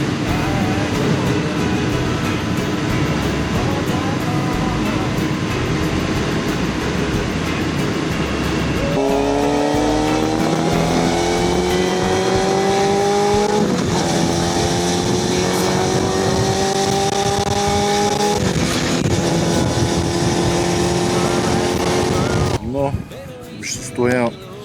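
A motorcycle woken after winter rides along with its engine droning, revs rising and falling in repeated gear-like sweeps before cutting off near the end, with wind noise and a voice speaking at times.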